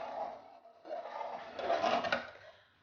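Ukwa (African breadfruit) stirred in a cooking pot, soft scraping and knocking of a spoon against the pot in a few uneven strokes, moderate and close, with a low hum behind.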